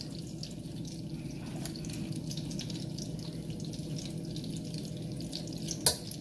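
Chicken broth boils hard in a pan for a goat cheese sauce, giving a constant near bubbling sizzle with small pops and one sharp clink near the end.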